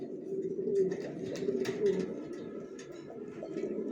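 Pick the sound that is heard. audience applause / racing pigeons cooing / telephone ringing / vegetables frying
racing pigeons cooing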